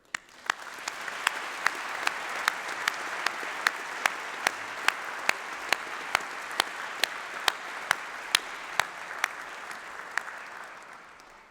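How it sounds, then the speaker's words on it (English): At a December doctoral hooding ceremony, a hall audience applauds with a steady wash of clapping, and single sharp claps stand out at an even, regular pace throughout. "Let's give a round of applause to all of those who have been part of this"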